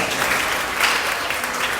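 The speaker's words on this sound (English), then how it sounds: "let's give a round of applause for Broadway Blooms" Audience at a county fair Little Miss and Mister contest giving a round of applause, steady dense clapping throughout, fairly loud and close, with no talk over it.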